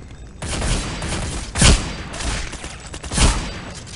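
Gunfire in Counter-Strike: Deleted Scenes during a motorcade assault, two loud broadband shots with sharp attacks about a second and a half apart, set over a steady roar of ambient game noise.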